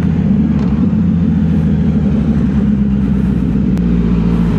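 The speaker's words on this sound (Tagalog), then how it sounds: "Ayun na yung traffic." A big-bike motorcycle rides into road traffic, with a steady low engine drone and passing car noise running continuously and fairly loud throughout.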